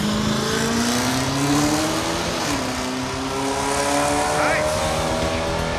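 A 1980 Chevy El Camino drag racing car engine revs and accelerates hard, its pitch climbing in long sweeps, loud and close, with people talking over it.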